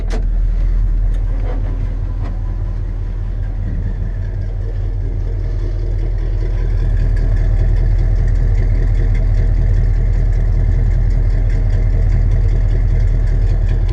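A Ford Gran Torino's engine idles steadily at close range, a low constant rumble that swells slightly partway through, with no talking.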